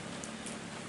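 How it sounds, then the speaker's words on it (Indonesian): Rain begins to fall over a rural village in Jambang Kulon, Indonesia, a steady, even hiss of drops covering the whole moment with no voices. "Tuh, udah mulai hujannya turunnya tuh."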